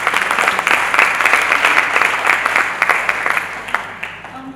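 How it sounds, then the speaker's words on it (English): An audience at a film-industry education event breaks into a loud, sustained round of applause, many hands clapping densely and steadily before it starts to thin out at the end. "Please, a round of applause."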